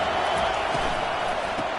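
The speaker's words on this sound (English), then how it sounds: "This crowd bringing the energy and noise early." Crowd noise at a Notre Dame football stadium during a Tennessee at Notre Dame game, a continuous distant roar of many voices with faint cheers, steady and fairly loud.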